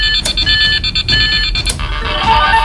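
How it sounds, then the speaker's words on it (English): An electronic alarm from a Spy Code Hackathon game console, bright repeated beeping tones close by, with short clicks and bursts between them. "hear the alarm sound"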